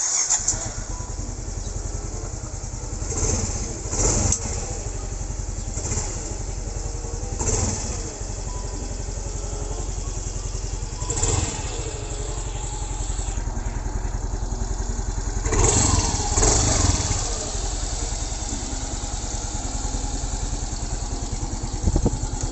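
A Yamaha Mio Soul i 125 scooter engine, parked on its side stand, starts and runs with a steady close idle punctuated by several sharp revs that swell and fall back, with light mechanical clatter throughout.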